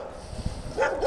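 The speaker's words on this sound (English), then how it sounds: "there's dogs going crazy there." Several dogs bark and yelp excitedly at a moderate distance during a dog obedience session, with short, irregular bursts that rise toward the end and no voice over them.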